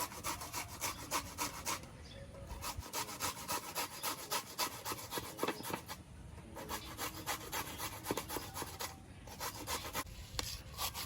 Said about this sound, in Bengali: আমটা কুড়ে নিচ্ছি